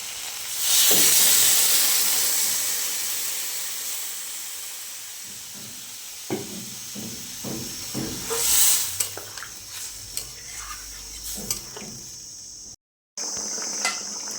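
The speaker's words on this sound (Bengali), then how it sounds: "ঝোলটা ফুটে উঠেছে" A Bengali fish curry broth of okra and potato bubbling steadily in a pot, a continuous hiss of steam and simmering with occasional clinks of a utensil against the pan, close and fairly loud.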